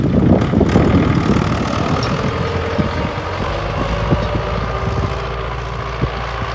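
A steady, loud MTZ-80 tractor engine drones and idles nearby during field cultivation, a low rumble with faint rhythmic knocking, running without pause.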